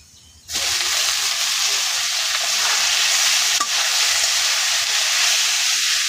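Malabar spinach hits hot oil with fried onions in a pan, bursting into a loud, steady sizzle that starts abruptly and carries on alone without pause.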